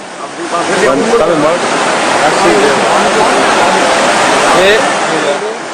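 Fast floodwater from a landslide in a Manipur village rushes like a river around a half-submerged house, giving a loud, steady, unbroken roar throughout.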